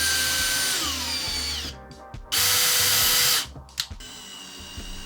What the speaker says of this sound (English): I got the drill out and did it all properly